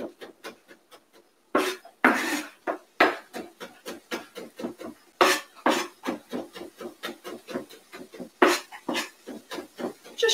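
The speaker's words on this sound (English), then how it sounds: "Then I'm just going to rock the knife back and forth and cutting it very finely" A knife rocks rapidly back and forth across a chopping board, finely mincing food for a chicken curry in a home kitchen, giving a steady run of close, crisp taps with a few heavier thuds between them.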